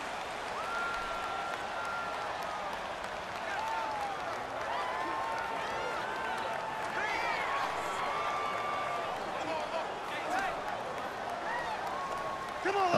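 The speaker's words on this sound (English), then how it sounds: "The crowd's not doing that O-line any favors." Simulated stadium crowd in Madden NFL 19, Packers at Seahawks, with home fans roaring steadily throughout to drown out the snap count, a dense sustained wash swelling slightly near the end.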